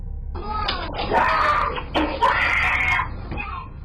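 A boy lets out two loud, strained screams in quick succession, with a brief break between them, close and harsh over a low background rumble.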